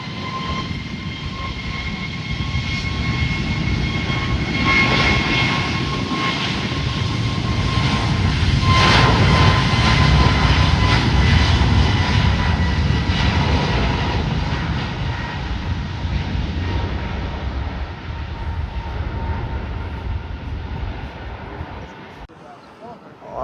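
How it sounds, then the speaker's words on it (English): An American Airlines Airbus A321neo takes off from the north side runway at San Juan's SJU airport, bound for Miami. Its engine roar builds to a loud peak midway, then slowly fades as the jet climbs away. "we got American Airlines flight number 1613 taking off to Miami on an A321neo. Taking off from the north side runway."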